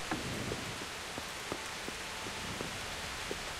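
Steady rainfall in the medieval game Kingdom Come: Deliverance, a constant soft hiss with scattered sharper drops pattering on surfaces throughout, no speech over it.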